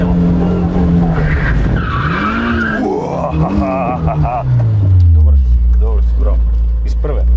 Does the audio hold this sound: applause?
no